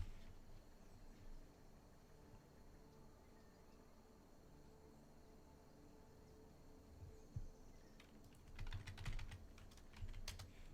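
Typing on a $10 HP USB keyboard: a quiet room hum gives way to a short burst of light, rapid keystroke clicks near the end, faint and close with no voices.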